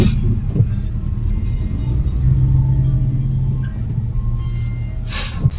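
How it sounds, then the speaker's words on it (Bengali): A road traffic jam heard from inside a vehicle: a loud, steady low engine and road rumble throughout, with occasional breathy vocal sounds nearby. "রাস্তায় যে জ্যাম আছে"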